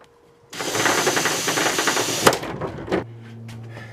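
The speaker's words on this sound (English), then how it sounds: "I've got a drill bit on here, so I'm going to tap my starter point" A power drill whirs in a short, rattling burst for a couple of seconds as its bit taps a starter hole in a door, close up, then stops, leaving a low hum.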